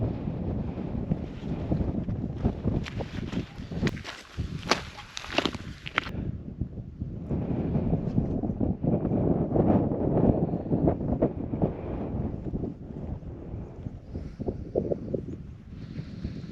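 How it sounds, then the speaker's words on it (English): Wind blowing across open purple heather moorland in the Scottish Borders, a steady loud rushing roar buffeting the microphone, gusting stronger in places, with no talking. "Hear the wind?"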